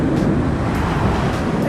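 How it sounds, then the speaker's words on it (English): Big, rough ocean waves crash on a beach in Mexico, a loud, continuous roar of surf with heavy low rumble and some wind buffeting, close and steady throughout. "The waves are so big"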